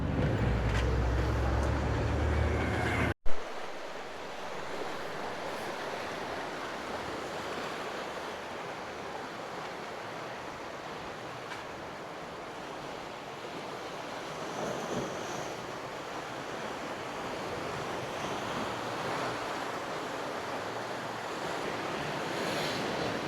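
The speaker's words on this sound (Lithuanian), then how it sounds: "Nu, čia krioklys" Water rushes steadily near the coastal cliffs of Cabo Girão, a dense continuous roar with wind noise, opening with a sharp thump from handling before the flow settles into an even, fairly loud wash.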